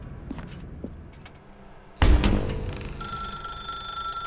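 A telephone rings in The Stanley Parable video game. A sudden loud burst gives way to a steady electronic ringing tone that sounds close and alone, without talk.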